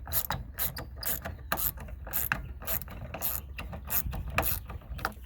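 Ratchet tightening a wobbly part on a Mitsubishi Eclipse, with repeated rapid clicking strokes in a fairly even back-and-forth rhythm, close and clear, no talking.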